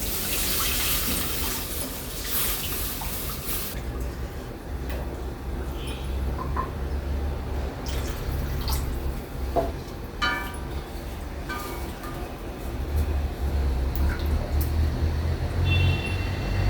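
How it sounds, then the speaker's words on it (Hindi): Water splashes and hisses into frying spice paste in a hot pan for arbi leaf curry, a continuous rushing pour with bubbling and sizzling throughout, close and fairly loud. "और इसमें पानी डाल दे रहे हैं।"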